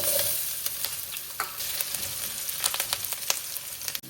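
Potatoes hitting hot ghee with cumin seeds and curry leaves for sabudana khichdi, a bright close sizzle with repeated spoon taps and stirring scrapes throughout.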